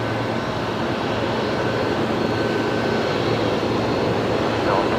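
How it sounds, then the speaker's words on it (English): A Jetstar airliner touches down on runway 19 left, a loud, steady broadband engine roar holding evenly throughout with no distinct peaks, while a person talks beneath it. "The Jetstar touching down now, runway 19 left"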